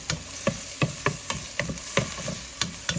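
Garlic and onion sautéing in a pan: a steady sizzle broken by rhythmic scraping and tapping strokes of a utensil being stirred, close and clear with no speech.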